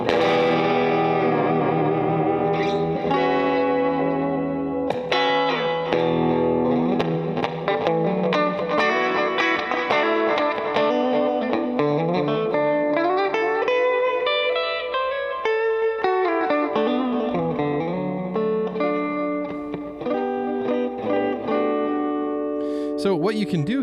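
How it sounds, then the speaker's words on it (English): Electric guitar played through a NU-X Mighty Plug headphone amp with surf-style spring reverb, sustained chords and picked notes ringing continuously with a wet, splashy tail throughout. "You can even do a spring reverb if you like that surfy sound."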